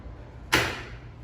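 A locked door in an apartment building opens with a single sharp clack or thud close by, followed by a short fading rush and low room hum.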